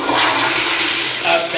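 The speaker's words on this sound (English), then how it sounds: "Exotic foot flush." A foot-operated toilet flushes with a loud, close rush of water that fills the whole short stretch.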